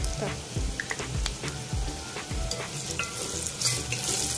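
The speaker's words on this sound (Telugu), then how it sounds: "ఆనియన్స్ వేగాలంటే కొద్దిగా సాల్ట్ వేసుకుంటే ఆనియన్స్ తొందరగా వేగిపోతాయి" Onions and green chillies frying with salt and turmeric in a pan for tomato pulao, a steady sizzle broken by scraping stirs and soft clinks.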